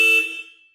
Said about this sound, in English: Shield your ears, because this thing has a literal train horn.